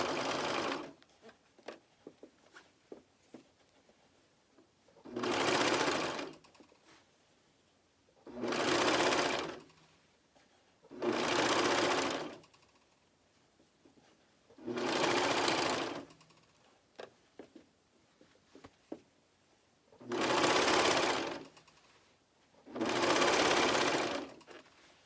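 A coverstitch machine sews a neckband onto a garment in six loud, steady bursts of rapid stitching, each lasting a couple of seconds and separated by quiet pauses with faint handling of the fabric.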